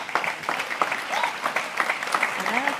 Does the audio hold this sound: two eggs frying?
no